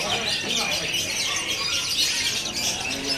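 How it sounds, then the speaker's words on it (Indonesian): Young Bangkok perkutut zebra doves calling at a bird stall, dense chirping and bird calls filling the space with other birds mixed in and faint talk underneath. "Ready juga burung perkutut Bangkok muda ya."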